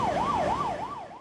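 Emergency sirens from fire trucks and ambulances racing to a factory explosion in Hsinchu at night, a wailing tone sweeping up and down in steady repeated cycles, loud and close, slightly fading toward the end with no talk.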